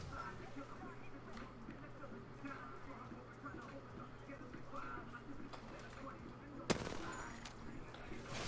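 Laser rifle fire in a video game, faint rapid shots ticking along under a low hum and voices, ending in one sharp loud blast followed by a denser burst.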